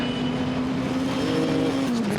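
A Group A touring race car at Goodwood, its engine droning loud and close with a steady high rev note that drops slightly at the end as it passes.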